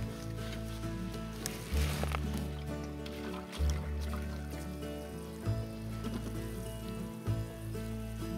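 Water pours onto newly planted native rhododendrons in a garden bed, a soft, uneven gurgling trickle with faint drips, set against a steady low hum that swells and drops at intervals.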